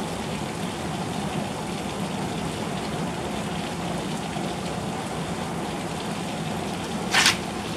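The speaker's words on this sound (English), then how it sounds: "it's raining hard" Steady, dense rain hiss fills the whole stretch, a constant heavy downpour in Redding with no voices, and a brief sharp splash-like burst near the end.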